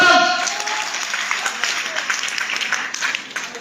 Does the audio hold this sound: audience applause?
yes